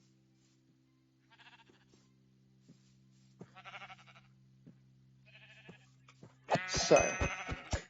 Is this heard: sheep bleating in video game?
yes